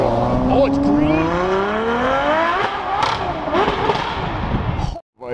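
A loud, high-revving supercar roars nonstop for about five seconds, its harmonics rising and falling through gear changes before a brief cutoff, with excited talk from onlookers over it.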